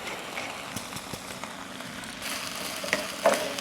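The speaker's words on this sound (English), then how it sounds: "just wilt this spinach down right in that oil, start cooking it down" Spinach wilts in hot oil in a pan, a quiet continuous frying sizzle with scattered light clicks and a louder utensil knock near the end.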